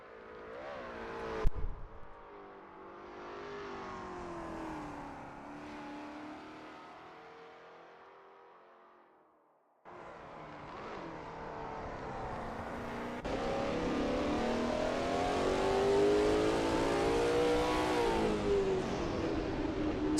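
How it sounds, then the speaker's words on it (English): Lola T70 MkII Spyder race car engine at Kyalami in 1967 trim in a racing video game, a loud continuous roar that rises and falls through the gears, briefly fading out before surging back harder. "Sketty is expertly commanding that car through Juxke sweep."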